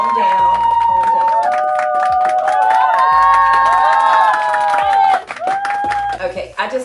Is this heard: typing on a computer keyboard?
no